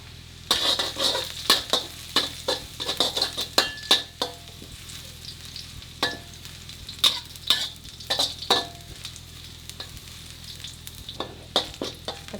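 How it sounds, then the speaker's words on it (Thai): Rice stir-fried dry with shrimp paste and chopped garlic in a pan, a steady sizzle under repeated scraping and clinking stirs at a close, even rhythm. "ผัดกับกะปิแบบแห้งๆเลย กระเทียมนะครับใส่ลงไปได้เลย กระเทียมสับ ประมาณหนึ่งช้อนโต๊ะนะครับ"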